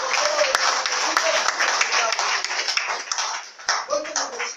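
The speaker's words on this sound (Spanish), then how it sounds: "¿No le dan un aplauso al Señor? Denle un aplauso al Señor." A church congregation bursts into sustained applause at a sermon, with dense clapping that swells and dips over several seconds, and scattered sharp claps stand out near the front.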